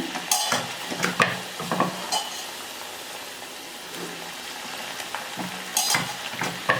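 Jowar and mint puris fry in hot oil, a steady close sizzle broken by bursts of crackling and the clink of a utensil stirring and turning them, with no talk.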